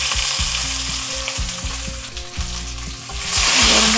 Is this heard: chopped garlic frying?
yes